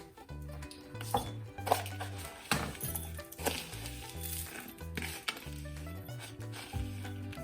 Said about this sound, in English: I'm just gonna start to layer it right in here